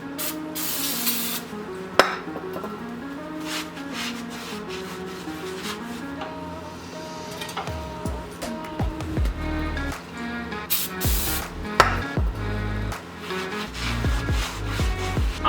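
Cleaner sprays onto the brake rotor of a Nissan Rogue in short hissing bursts, mixed with rubbing and scraping and some tonal background noise, close and steady throughout.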